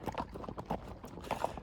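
Horse hooves clip-clop in a steady, quick rhythm while riding across frozen country, close and fairly loud with no talk.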